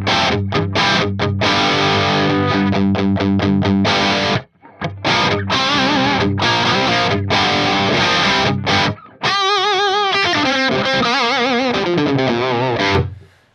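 An Axe-Fx III amp model dialed for a classic hard-rock tone, with bass pulled back and input drive lowered, drives an electric guitar through a crunchy riff of chopped chords, two brief gaps, then sustained ringing notes, loud and alone.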